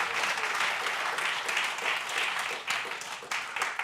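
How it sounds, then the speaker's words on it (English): Audience applause at a Sunday church service, welcoming new board members: a dense, steady wash of many hands clapping at moderate volume for about four seconds, thinning slightly near the end. "big round of applause"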